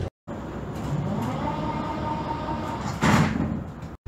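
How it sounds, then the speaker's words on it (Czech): Doors on an 81-71M metro train slide shut with a sustained whooshing rumble and a louder thump near the end, heard alone inside the carriage. "Dveře se zavírají."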